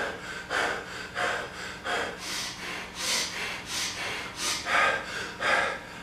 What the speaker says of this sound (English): Start breathing really hard as if you were running or exercising with some vigor.